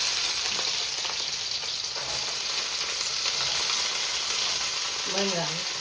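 Carrots, beans and onion frying in hot oil in a pan, giving a steady, close sizzle with a brief stirring scrape near the end.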